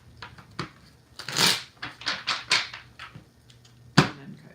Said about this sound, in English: Shuffle, then cut 2 times.